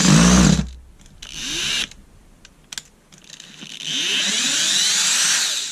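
Erbauer 18V brushless cordless drill running at slow speed, whirring up in three separate close, loud bursts whose pitch climbs as the motor gets going, with quiet pauses between.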